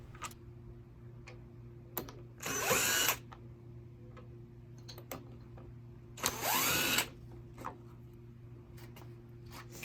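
A power drill backs screws out of a cantilever umbrella crank, two separate whirring bursts of about a second each, close and loud, with small clicks and handling taps scattered between them.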